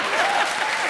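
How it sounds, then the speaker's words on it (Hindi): A comedy show's studio audience applauds, a dense, even wash of many hands clapping at once, loud and sustained with no voices over it. "इनके लिए जोरदार तालियां।"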